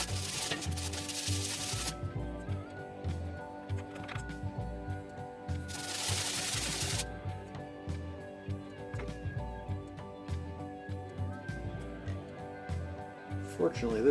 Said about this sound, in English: I'm going to sand these pieces,